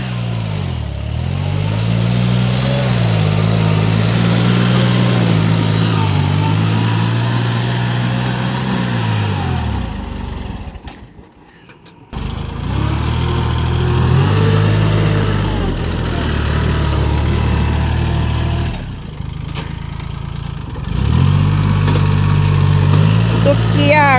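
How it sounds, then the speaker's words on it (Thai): An L3608 tractor's three-cylinder engine runs steadily with a low chugging drone, rising and dipping in pitch, with a couple of brief drops in between. "ตัวนี้เครื่องยนต์ 3 สูบนะคะ"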